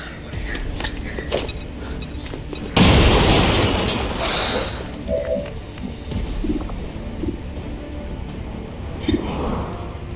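A grenade detonates in XCOM 2, a loud sudden blast followed by a long rumbling decay, with scattered game sounds and voices before and after.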